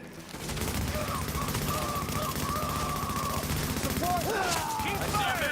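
Sustained rapid gunfire in the video game The Division, a dense, loud fusillade of overlapping shots that runs continuously, with brief game voice lines and tonal effects mixed in.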